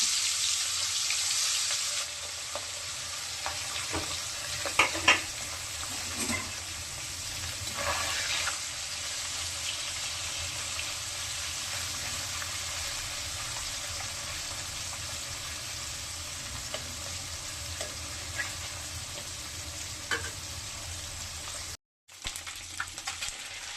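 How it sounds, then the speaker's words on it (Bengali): Small mola fish, coated in spice, sizzle in hot oil in a pan with a steady close hiss, plus a few brief clinks and stirring noises partway through. "তেলটা গরম হয়ে গেছে, এখন মাছটা তুলে দিচ্ছি"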